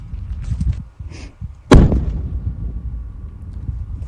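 A single sharp, loud blast erupts mid-clip during a fire in Bhankrota, its boom trailing off into rumble over faint background noise and movement.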